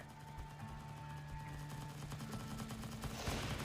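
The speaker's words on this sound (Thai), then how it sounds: "โอ้ยยิงกันมันมากโอ้โห" Gunfire in a zombie base-defense video game: a dense, continuous rattle of rapid shots layered over steady background music.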